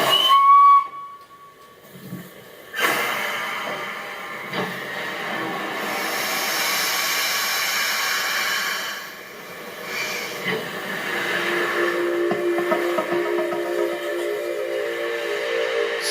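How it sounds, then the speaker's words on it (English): Steam locomotive LNER 60163 Tornado releasing steam as it starts off, a sustained loud hiss with a whistle-like tone at first, then steady rushing steam and rail noise, no talk. "Steam fills Tornado's cylinders."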